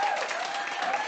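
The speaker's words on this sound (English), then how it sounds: "Deserves a round of applause." Brief, dense audience applause at a brewery collaboration event, steady and fairly close with no gaps.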